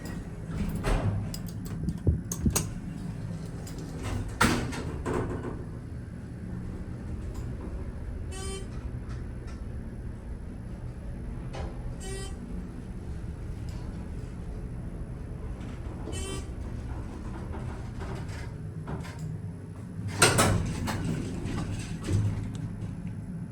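Elevator door operator at Evans Library in College Station, Texas, clunking and thudding in several sharp knocks and rattles over a steady mechanical hum, with a louder clatter near the end.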